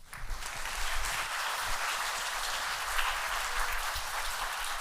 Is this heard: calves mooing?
no